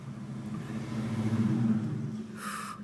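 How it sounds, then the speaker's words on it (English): A loud truck drives past on a snowy road, its deep engine rumble swelling steadily and then easing over about three seconds, with a brief hissing burst near the end. "You got a loud truck, buddy?"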